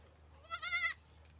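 Young goat kid giving a single short, quavering bleat of under half a second, close and clear against a quiet background.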